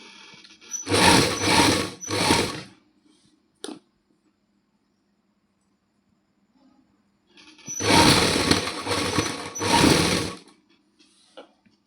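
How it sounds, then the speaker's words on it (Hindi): Sewing machine stitching a lace trim onto a suit, running in two loud bursts of rapid whirring stitches with a short click between and a quiet pause in the middle. "अस इस उपर सिलाई लगा देंगे"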